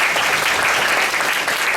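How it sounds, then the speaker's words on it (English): An audience gives a big round of applause after student presentations at a skills event, continuous dense clapping filling the whole moment, close and even. "A big round of applause."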